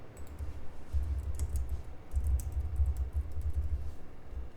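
Keys tapping on a computer keyboard in two quick bursts of soft typing, close and alone, with light clicks in between.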